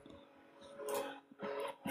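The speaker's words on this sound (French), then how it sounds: "Il est en train de vomir ses tripes là, le moteur." A struggling car engine in the Roblox game Los Angeles RP roars and sputters in rough, loud bursts, surging in intensity several times over a low continuous drone.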